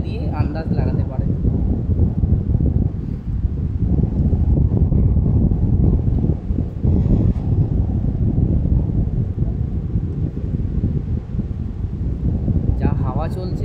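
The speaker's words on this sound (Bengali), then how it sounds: "যা হাওয়া চলছে আপনারা হয়তো শুনতে পাচ্ছেন" Strong wind sweeps across Mandarmani sea beach, a loud continuous roar buffeting the microphone, with a person's voice heard briefly at the start and again at the end.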